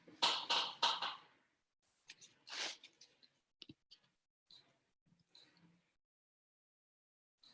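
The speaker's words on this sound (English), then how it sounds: "So I'm just clicking on this." A computer mouse clicks close up, with a quick cluster of sharp clicks at the start followed by sparser, fainter taps and clicks fading into quiet.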